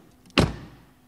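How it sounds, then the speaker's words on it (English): A BMW XM performance SUV door shuts with a single solid, close thud that fades quickly into quiet, with no talking. "And door closing sound."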